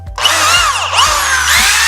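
A drill press running at over 2000 RPM bores an 8 mm bit into spring steel, giving a loud, continuous high-pitched grinding whine with shifting squealing tones, close up and uninterrupted.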